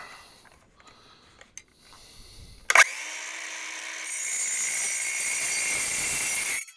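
A Dewalt metal-cutting circular saw bites into aluminum with a sharp clack, then settles into a steady, bright, high whine that holds for a few seconds and stops abruptly. The cut sounds fairly close and has no talk over it.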